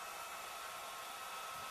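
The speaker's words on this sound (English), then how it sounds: "Here we're using a hair dryer." A hair dryer blows steadily over the edge of a protective film on a stainless steel appliance, an even whirring hiss with a constant tone, faint and uninterrupted.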